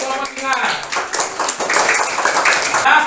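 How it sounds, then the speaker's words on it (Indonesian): Children in a classroom clap for the lion group, a scattered patter of small hands alongside children's voices, close and lively. "tepuk tangan dulu untuk kelompok singa"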